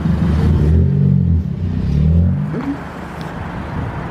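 A car engine hums and briefly revs while the car reverses during a driving manoeuvre, a close rumbling drone that eases off toward the end, with no talk.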